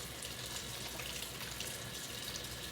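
Water from a bathroom tap runs steadily into a sink while hands are washed with dish soap, a continuous close rushing splash with no talk.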